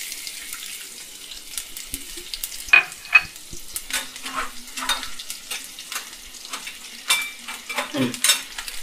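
Onion sizzles in hot oil with cinnamon and clove for a Tamil chicken pepper fry, with soft crackling and repeated scraping stirs of a spatula in the pan, close up and with no talking.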